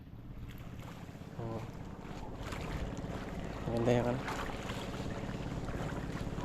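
Steady beach wind rushes and buffets the microphone outdoors in the late afternoon, with a low engine-like drone underneath and brief talking partway through.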